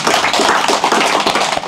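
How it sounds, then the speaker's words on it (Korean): An audience at a Korean political lecture applauds a newly appointed Daegu regional head: a dense, steady wash of many hands clapping, loud and close, filling the short moment with no speech over it. "박수 좀"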